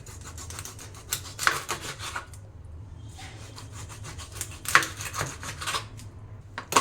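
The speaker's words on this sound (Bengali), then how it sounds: "এবার আমি মাছটাকে ঘুরিয়ে নিলাম নিয়ে আমি লেজের দিক থেকে কাটবো" Knife slicing a whole hilsa fish into pieces, working from the tail end, producing scraping, rubbing cuts in bursts with sharp clicks of the blade against the board, close and moderately loud.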